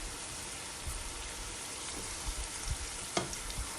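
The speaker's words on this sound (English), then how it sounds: "going to cook the onions until they're golden brown. I mean, you can put the heat on high for this." Sliced onions fry over high heat in a pan for lamb biryani, making a continuous soft crackling sizzle with faint scattered pops and a brief scrape, nearby and fairly quiet.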